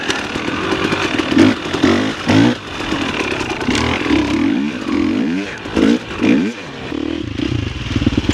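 A dirt bike engine rolling along in third gear, loud and close, its note rising and falling with the throttle in repeated surges and drops, rough and buzzing throughout.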